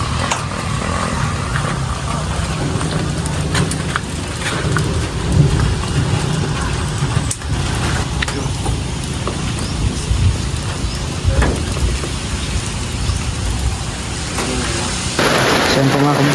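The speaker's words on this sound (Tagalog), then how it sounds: "sa sobrang lakas po ng ulan mga kababayan" Heavy rain pours steadily and close by, with low rumbles of thunder rolling underneath; a brief voice surfaces near the end.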